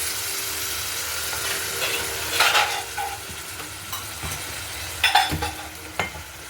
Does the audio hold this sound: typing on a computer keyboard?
no